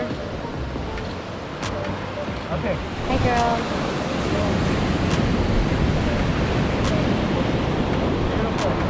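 Ocean waves wash up on a beach during an outdoor photo shoot, a broad steady roar of surf that swells louder midway, with a few clicks and brief voices.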